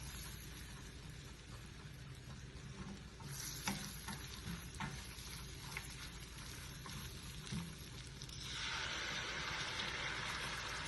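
Tomato and onion paste is stirred in a hot pan, with a soft continuous sizzle broken by scraping stir strokes and a few clinks; the frying grows louder and brighter toward the end.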